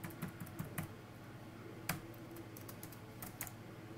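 Computer keyboard typing, close and quiet, with irregular bursts of sharp key clicks separated by short pauses.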